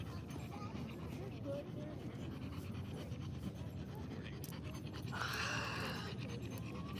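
A dog pants rhythmically nearby with occasional small whimpers, fairly quiet and under a person talking during a livestreamed yoga session.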